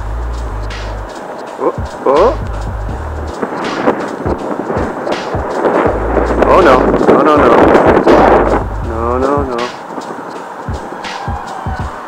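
Gusty wind buffeting the microphone with low rumbling bursts, heard under a person talking outdoors while flying an RC drone.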